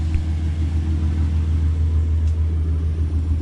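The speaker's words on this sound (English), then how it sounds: "right now I just turned on my car." A car engine idles with a deep, steady low rumble, constant and close, with no change in pitch throughout.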